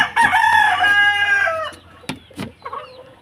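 A backyard rooster crows once, loud and close, in a long drawn-out call, then gives a few short clucks and a sharp tap.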